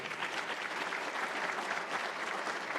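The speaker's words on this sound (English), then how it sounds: "And I want philanthropist Betsy Sherman, I want you all to give her a round of applause for what they did" Audience applause at an awards ceremony, an even, continuous wash of many hands clapping from a large crowd, heard at a distance and fairly quiet.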